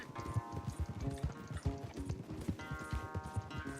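Horses gallop in Red Dead Redemption 2 during a race, with steady rapid hoofbeats thudding close and continuous under a game musical score.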